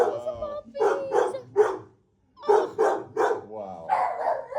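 Puppies at an animal rescue give a rapid series of high yips and short barks in two bursts with a brief pause between, close and loud, ending with a whimpering whine.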